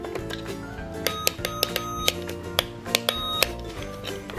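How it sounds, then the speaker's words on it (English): A Just Like Home toy cash register playset gives out a loud, continuous electronic jingle with sharp, regularly spaced clicks or beeps, heard up close with no talking. "So here is our cash register."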